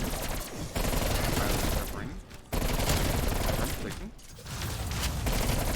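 Call of Duty Cold War gunfire: sustained bursts of rapid automatic shots, loud and dense, broken by two short pauses, with game effects under the firing.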